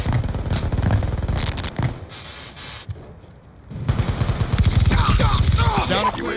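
Vector K10 submachine gun fire in Call of Duty Black Ops 2 comes in rapid automatic bursts. Loud rattling volleys are broken by a short quieter gap, with game effects and distorted radio chatter mixed in.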